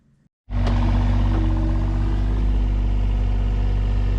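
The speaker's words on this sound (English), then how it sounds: "Dad's running an excavator." A heavy engine rumbles steadily at a low idle, starting abruptly after a brief quiet moment and holding constant and loud.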